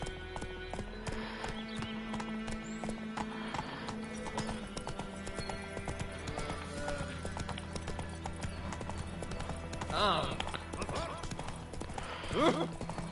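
Roach, a horse in the game The Witcher 3: Wild Hunt, gallops with a quick, continuous clip-clop of hooves throughout, and a short whinny rises near the end.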